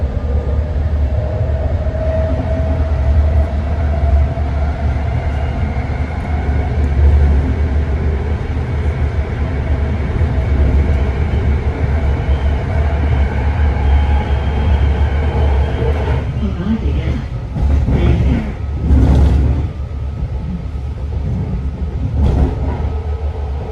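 Steady loud rumble of a BART train riding through the San Francisco Bay Area, rolling wheel roar with a continuous hum and a few rattling bursts and clanks toward the end. No one speaks.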